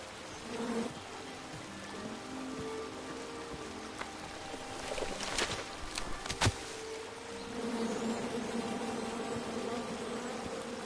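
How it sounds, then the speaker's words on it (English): Angry bees swarm in a forest video game, a steady low buzzing drone running throughout with a few sharp clicks and brief louder bursts around the middle. "Come at me, bees!"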